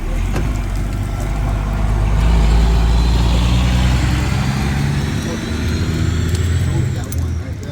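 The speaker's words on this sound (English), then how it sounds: "you're gonna possibly hear a lot of trucks driving by" Heavy trucks drive by on a busy street, a deep engine rumble that swells in the middle as a vehicle passes close and then eases slightly, with continuous traffic noise underneath.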